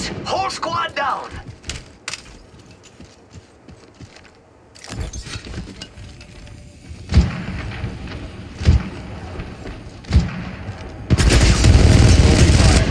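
Gunfire from Apex Legends Mobile played on an Infinix Note 10 Pro, with bursts of rapid shots, sharp impacts and a loud sustained barrage near the end, mixed with game voice lines and clicks.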